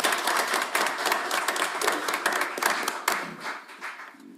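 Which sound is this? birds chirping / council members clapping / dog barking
council members clapping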